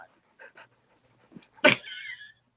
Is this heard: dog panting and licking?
yes